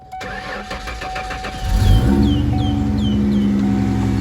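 An old car sitting unused for a week, with a revived battery, cranks with a few rapid starter clicks and then catches into a steady idle up close, with no talking.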